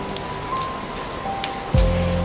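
Rain falls on a greenhouse roof at night as a steady, even hiss of drops, close and constant, with soft sustained musical tones and a low rumble swelling near the end.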